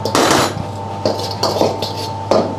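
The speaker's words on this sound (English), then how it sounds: "Yeah, we fry the salt until you can see the color change." Two tablespoons of salt dry-frying in a hot wok, with a burst of metal scraping followed by several sharp clanks of a utensil against the wok over a steady hum.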